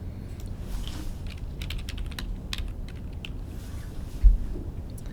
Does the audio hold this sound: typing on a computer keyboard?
yes